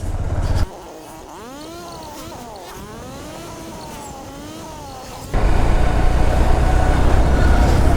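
A Honda X Blade 160 ABS motorcycle being ridden on unfamiliar roads: a rising and falling engine whine as the throttle changes, with loud wind rush at the start and again near the end.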